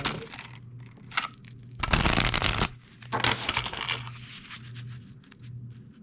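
Elemental Oracle cards being shuffled by hand, with soft riffling and a louder burst of rapid card flutter midway, then quieter shuffling, close and alone without talk.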